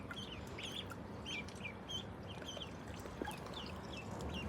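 Ducks fed on a balcony give soft quacks and chirpy calls scattered over a steady low background hum, fairly faint and at close to moderate distance.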